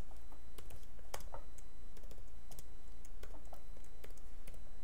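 Numbers are typed on a computer keyboard while writing C++ code, a close, irregular run of sharp plastic key clicks with brief pauses over a steady low hum.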